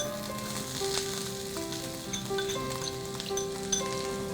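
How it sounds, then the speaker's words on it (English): Finely chopped onions sizzle in hot oil in a pan, a steady close hiss with soft stirring clicks and a faint tonal hum underneath. "So oil is hot enough. Let's add some finely chopped onions."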